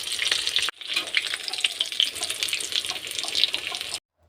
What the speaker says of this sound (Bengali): এই পিঠটাও কিন্তু লাল করে ভেজে নিতে হবে।